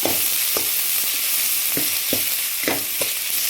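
A pan of meal maker gravy ingredients being sautéed, with steady frying sizzle and repeated scraping strokes of a spoon roughly every half second, close and fairly loud, no talking.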